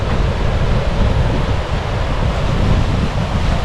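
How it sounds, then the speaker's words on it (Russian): Rough Andaman Sea waves breaking on a rocky shore, a loud, continuous roar of surf mixed with heavy wind buffeting the microphone, close and unbroken. "Ребят, ну море волнуется."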